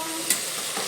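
Continuous close sizzle of bay leaf and whole spices frying in hot oil in a pan for chicken biryani, with a faint scrape of stirring partway through.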